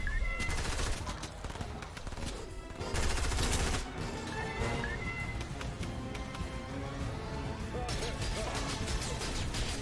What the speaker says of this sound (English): A purple minigun.